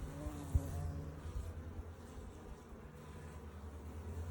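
Honey bees hum in a steady, low drone while an open hive is being inspected, with a faint harmonic buzz and a single brief knock near the start.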